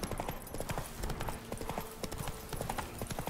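A horse's hooves clip-clop at a steady trot in The Witcher 3 video game, the rhythmic hoofbeats quiet and continuous against game background sound.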